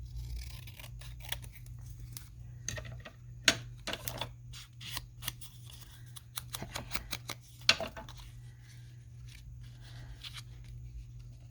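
Scissors trim down a piece of craft card in quick bursts of crisp snips, several clustered cuts spaced by short pauses over a low steady room hum, close to the mic with no voices.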